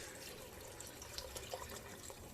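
A quart of liquid poured into a pot of low-carb Zuppa Toscana soup, giving a faint, steady splashing pour with small spatters and no talking.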